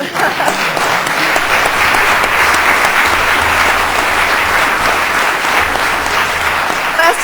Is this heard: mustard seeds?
no